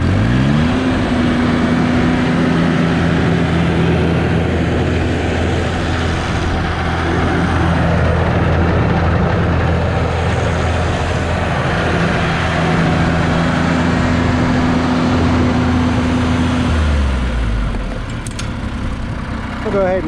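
An engine, apparently a 322 model, idles steadily, then rises to a held higher pitch under a little throttle before dropping back down near the end, loud and close throughout.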